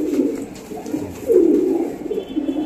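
Low, soft cooing of a male Rampuri pigeon, a few rolling throaty calls close by, with faint background noise and no talking.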